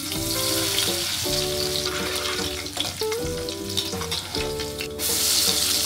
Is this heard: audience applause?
no